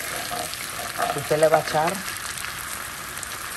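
Margarine and garlic sizzle softly in a pan as a steady crackling fry under someone speaking Spanish, with a brief louder stirring swell midway.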